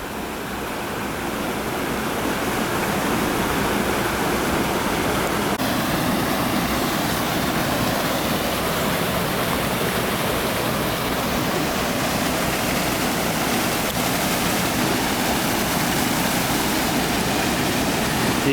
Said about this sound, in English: Just an amazingly beautiful river.